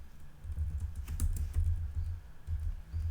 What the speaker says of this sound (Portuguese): Vou digitar meu nome completo aqui